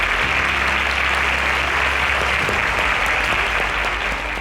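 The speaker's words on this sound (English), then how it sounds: "That was the correct answer. Round of applause." Steady, loud audience applause on a quiz show stage, dense clapping sustained throughout and fading slightly at the end, with no voices.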